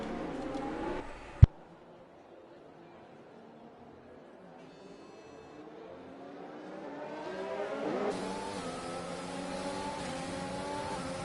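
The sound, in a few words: racing car engines in F1 video game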